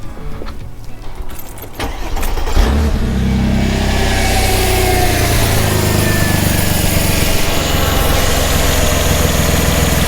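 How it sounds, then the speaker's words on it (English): Car engine cranked and started, a brief churn of the starter then a loud catch that settles into a steady, close idle that continues to the end. "Right, now start the engine."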